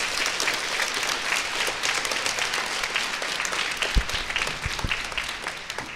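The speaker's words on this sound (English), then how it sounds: "Can we give a round of applause to those families, please?" A school concert audience claps steadily for several seconds, a thick even roar of many hands with a few louder nearby claps and faint crowd murmur underneath.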